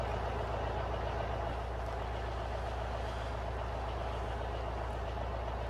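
A truck engine idles in a truck driving video game, a steady low rumble and hum holding constant and fairly quiet throughout.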